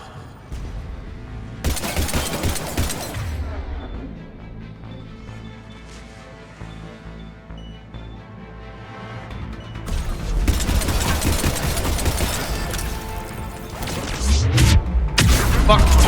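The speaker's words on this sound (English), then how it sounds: "Be ready for a lot of gunfire." Bursts of rapid gunfire and booming blasts erupt in loud clusters in the video game Mass Effect 3, with dense, chaotic bursts near the start and again toward the end.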